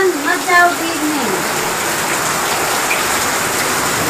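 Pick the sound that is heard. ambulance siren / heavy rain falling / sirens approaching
heavy rain falling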